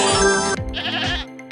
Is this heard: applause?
no